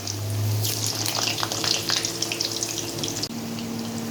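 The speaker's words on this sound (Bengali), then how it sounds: "তেল খুবই গরম হয়ে গেছে, আলুগুলো এক এক করে ছেড়ে দিচ্ছে।" Potatoes dropped one at a time into very hot oil in a home kitchen, giving a steady close frying hiss and watery crackle with scattered spits and pops throughout.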